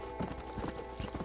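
Horse hooves clip-clop in Red Dead Redemption: Undead Nightmare, the Pestilence mount, in a quick run of close, distinct hoofbeats over about a second, with no talking.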